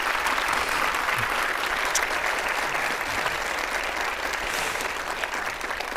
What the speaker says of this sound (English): maybe let's have a round of applause for Deb now.